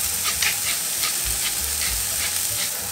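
Foie gras seared in a hot pan, a loud continuous sizzle with bursts of spitting fat that runs the whole time, close up with no voices.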